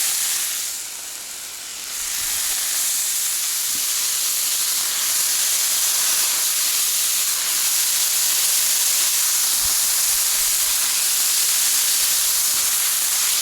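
Costco bacon sizzling on a Blackstone outdoor griddle, a loud, continuous bright hiss and crackle with small pops, briefly dipping near the start before holding steady.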